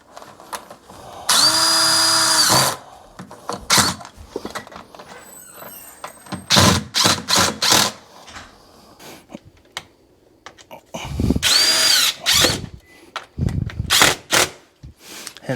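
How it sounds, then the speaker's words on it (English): A power drill whirs in two sustained bursts, with shorter clicks and clattering handling noises in between, while installing luxury vinyl plank flooring. "I'm not very good with a drill left-handed."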